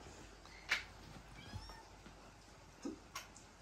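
A kitten gives a few short meows, fairly faint and spaced apart, in a quiet indoor room.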